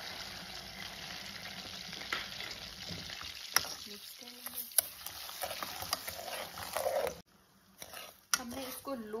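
Butter and sugar sizzle steadily in a pan while a spoon stirs, with occasional scraping clinks against the metal and a brief pause before the frying resumes.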